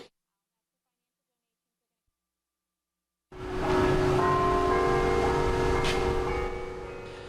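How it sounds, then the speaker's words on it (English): At high noon, after several seconds of silence, large church bells ring out loudly with rich sustained tones that overlap and slowly fade. "Church bells ringing at high noon."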